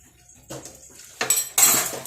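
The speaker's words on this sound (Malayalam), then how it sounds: "പാത്രം കുറേ ഉണ്ട് പാത്രം കുറച്ച് അങ്ങ് കഴുകാം" Dishes, pots and utensils being washed in a home kitchen, clattering and clanking in irregular bursts that grow louder, with two sharp loud clusters of metal-on-metal knocks toward the end.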